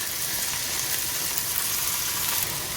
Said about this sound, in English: And now I'm going to add in the veggies with some olive oil.